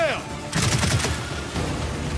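Rapid gunfire hits snipers in the shooter game Gears 5, a dense loud burst of shots crackling over game noise and music, close and continuous for a couple of seconds.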